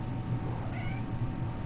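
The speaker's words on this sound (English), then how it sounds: "That's my cat again." A pet cat meowing indoors, one drawn-out, fairly faint meow in the middle over a steady background hum.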